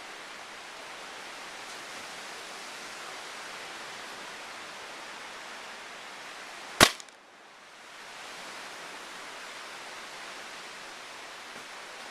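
A single sharp, loud crack of a Daisy Powerline 880 air rifle shot over a steady background hiss, with a quick fading tail and no talking.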